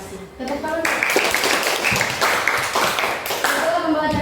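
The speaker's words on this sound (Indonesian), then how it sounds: "Tepuk tangan." Brief clapping from students in a classroom lesson, scattered and uneven, mixed with voices talking over it.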